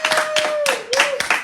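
A small podcast audience claps in a few sharp, close bursts, with a voice talking over the clapping.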